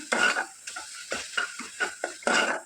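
A spoon stirs spices such as chilli powder and coriander powder into a sizzling tempering in a pan, with repeated close scraping strokes over a low fry, no voices.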